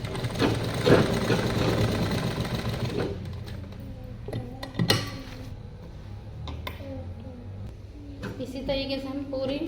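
A sewing machine stitching a puff sleeve runs in steady mechanical bursts with stops and restarts, close by, while a person talks over it.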